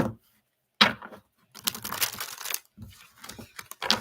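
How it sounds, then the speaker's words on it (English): Slick tarot cards are shuffled in bursts of crisp riffling and flicking, with short pauses between, close and moderately quiet. "Oh, that was a good shuffle."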